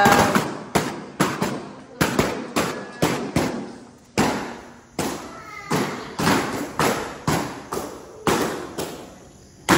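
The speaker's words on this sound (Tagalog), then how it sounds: "Putukan." Firecrackers burst at a birthday celebration, a rapid series of sharp loud bangs in irregular bursts across the whole stretch, each cracking report trailing off briefly before the next.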